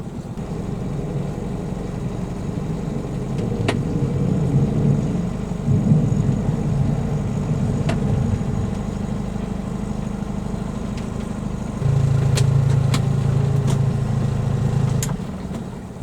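A narrowboat's low diesel engine chugs steadily nearby while reversing on a canal, its note swelling and shifting pitch as it works harder, with faint clanks over the drone.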